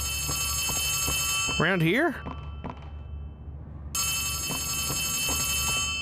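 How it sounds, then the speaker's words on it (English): An old-style telephone rings in short repeated bursts inside the horror video game Poppy Playtime, heard behind a voice that talks over a brief stretch in the middle, with a low steady hum throughout. "Is that a phone?"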